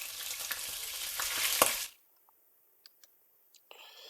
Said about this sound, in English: Nice sizzle, sizzle, sizzle, sizzle, that's what we want.